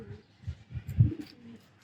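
Pigeons, including a green-necked female, coo close by in a short series of low, soft throaty pulses that swell to a stronger coo in the middle.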